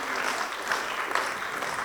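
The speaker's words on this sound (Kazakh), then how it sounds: "Рахымжан Жақайым мен Нұрсұлтан Нұрбердиев деген хит әншілерге бір шапалақ соғып қойыңыздар" Applause for two wedding singers at a Kazakh bride-farewell celebration: a steady wash of clapping from a crowd, even and sustained throughout, with faint voices mixed in.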